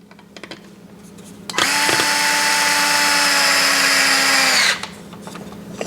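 Power drill driving a screw through a rear skid plate into its brace on a Super Rock Rey RC truck, one steady high whine running about three seconds, close and loud, with faint handling noise before and after.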